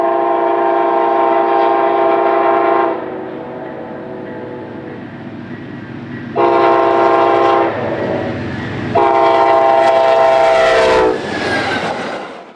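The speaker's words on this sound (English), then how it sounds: "The train is Amtrak 350, one of several daily Wolverines to Pontiac, Michigan" Amtrak 350 Wolverine passenger train passing on a busy junction line, loud sustained horn blasts sounding in several long bursts over the rumble and clatter of the passing cars.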